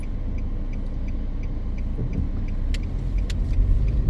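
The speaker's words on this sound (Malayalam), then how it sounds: "വണ്ടി വരുന്നു, സൈഡ് നോക്കി പോകും." A car moves along a quiet road on a very hot day. Its steady, close rumble swells slightly toward the end as it passes, with no voices.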